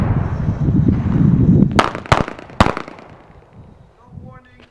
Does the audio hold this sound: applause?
no